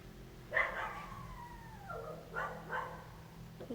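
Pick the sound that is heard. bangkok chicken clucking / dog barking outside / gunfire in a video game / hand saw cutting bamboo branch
dog barking outside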